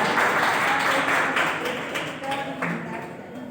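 Participants at a teacher training session clap together in a steady, fairly loud round, with some voices mixed in as it tapers off.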